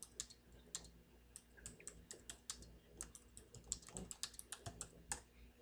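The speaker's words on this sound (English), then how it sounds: "I hear Krista typing away" Quiet, steady typing on a computer keyboard, a brisk run of light key clicks heard faintly and alone.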